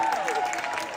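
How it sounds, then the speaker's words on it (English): Audience applause from a crowd at a celebrity event, a steady wash of clapping lasting about a second, with a faint voice threaded through it. "Everybody give her a round of applause,"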